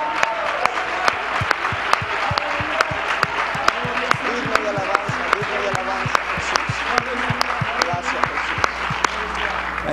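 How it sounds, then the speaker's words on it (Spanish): A church congregation at a bilingual worship service claps in praise with strong, evenly spaced rhythmic beats over a busy crowd and voice backdrop, loud and sustained. "Why don't you give another hand and clap of praise unto the Lord?"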